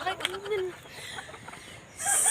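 Chickens clucking nearby with a short crowing call, under a voice greeting them, followed by a sudden bright burst of noise at the end.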